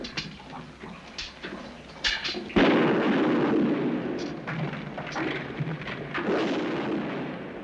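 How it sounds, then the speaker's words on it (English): Sharp cracks of gunfire, then a sudden loud boom that leaves a heavy rumbling roar with further scattered shots echoing under it. "That gunfire came from straight ahead."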